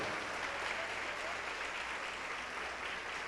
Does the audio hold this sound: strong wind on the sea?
no